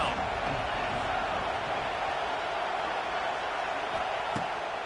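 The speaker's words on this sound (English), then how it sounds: "Decibels rising as the crowd gets behind this defense on 3rd down." A football stadium crowd on third down roars as a steady, dense wall of noise, far and sustained, while a commentator talks over it.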